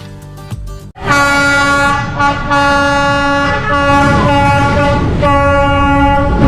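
Train at Hanoi station sounds a long, loud, blaring horn with strong harmonic tones, holding it with brief dips over the rumble of the passing train, close by.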